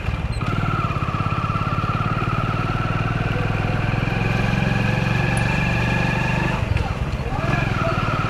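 A motorcycle travels along a road in a residential area, its engine putting out a steady close buzzing hum with a little pitch drift, and road and wind noise underneath; someone talks over it in places.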